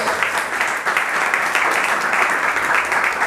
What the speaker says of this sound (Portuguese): bater as palmas mais fortes que você puder